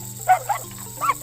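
A giant toy dog in an animated children's story barks at a wolf: a few quick, loud cartoonish barks over a steady musical drone.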